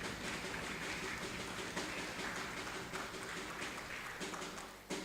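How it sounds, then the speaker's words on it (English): An audience at the Ekiti State Special Day claps steadily for the state's workers, with dense applause filling the room at an even level throughout. "Ekiti State workers, can you please clap for them?"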